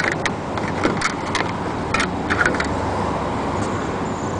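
Ford Ranger 4x4 pickup with a manual transmission driving on the road, a steady broadband engine and road rumble holding at an even level throughout, close and continuous, with no talking.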